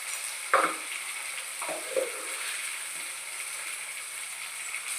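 Onions, tomatoes and ginger paste fry for rajma curry with a constant soft sizzle, and a few clinks and scrapes of a spoon against the pan come near the start.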